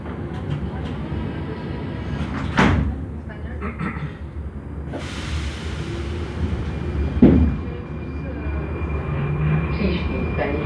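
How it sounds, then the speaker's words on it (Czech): A Prague metro train on Line A runs underground with a steady low rumble and hum. Two brief hissing bursts rise above it, and a broad whoosh swells midway as the train gathers speed. "dveře se zavírají."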